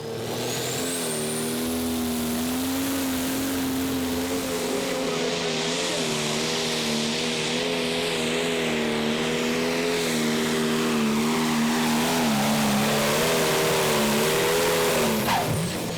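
A John Deere tractor in a Prostock tractor pulling run at the Eurocup in Herning, Denmark, its engine holding a loud, sustained roar that slowly shifts in pitch for the whole pull, with no talk over it.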